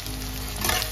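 Sliced onion and slit green chillies fry in hot oil, giving a brief, steady close-up sizzle with no voices.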